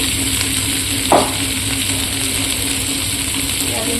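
Ginger-garlic paste hits a hot pan of oil for shahi paneer, giving a steady, close sizzle with one brief sharper splutter early on. No one speaks.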